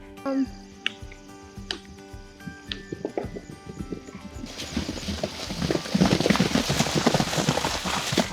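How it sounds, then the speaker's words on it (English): Hooves clop in an uneven stream at a horse shelter, with a horse neighing early on, then a busier, louder rush of hoofbeats and movement building toward the end as horses are moved out of quarantine. "We just got done moving the horses out of quarantine down here to the main part of the shelter."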